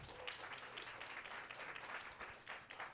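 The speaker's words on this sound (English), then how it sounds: "So a big applause to Melinda and Wayne" Crowd applause at a tech inclusion conference workshop, steady continuous clapping from the audience heard faintly and at a distance for about three seconds.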